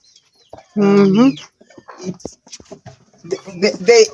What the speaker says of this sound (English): they're Kenyaji chickens